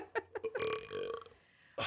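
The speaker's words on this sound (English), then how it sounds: "I have a really big burp in my stomach." A loud, drawn-out human burp rising from a few short throaty gulps into a sustained croaking belch, with a brief noisy breath at the end.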